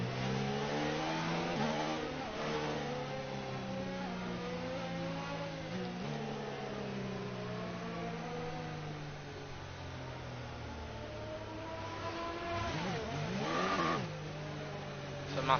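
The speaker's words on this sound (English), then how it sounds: "We're just gonna see Verstappen now go past in the Ferrari." A Ferrari Formula 1 car in F1 2019 passes by as a high, whining engine tone. The pitch sweeps up and down through gear changes, and a sharp Doppler drop comes near the end as it goes past, heard over the steady drone of the player's car.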